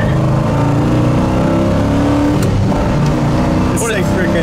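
1967 Pontiac GTO accelerates hard from inside the cabin, a loud continuous engine roar with rising harmonics, while people talk over it.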